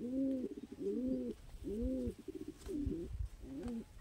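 Fancy flying pigeons coo in repeated, close, rhythmic calls, each a rising-falling throaty phrase with short pauses between, set against a steady outdoor background hum.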